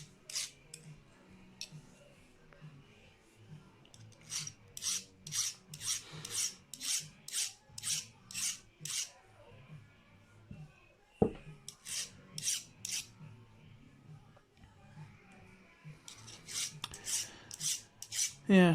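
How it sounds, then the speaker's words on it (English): A hand file rasps burrs off a metal part of an Ibanez Gio guitar, with quick bursts of short rhythmic strokes, a pause with a small clack, then more filing, close and fairly quiet. "Just gently take any burrs off."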